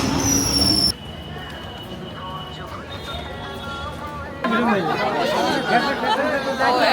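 A Krishnanagar local train pulls into a busy station, its wheels squealing and rumbling as the carriages roll in, under loud crowd chatter and nearby voices.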